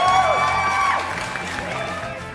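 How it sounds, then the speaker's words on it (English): Crowd applause and cheering with whoops, a dense steady wash of clapping and voices that holds loud throughout. "Claps all around."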